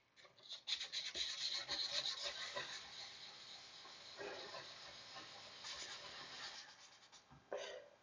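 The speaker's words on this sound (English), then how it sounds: "we're going to switch to the 600 grit to really get it nice and smooth" Hand sanding with 600 grit sandpaper smooths a chipped tub repair, giving a faint, continuous rubbing hiss with rhythmic strokes throughout.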